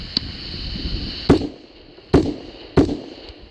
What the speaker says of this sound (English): Let's shoot the rifle a little bit, see how it does. First one's 9mm, this is 223 out of a Lone Star Armory